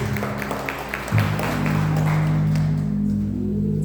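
A church congregation at a Father's Day family service applauds, scattered claps building into steady group clapping, with a sustained organ or keyboard tone underneath.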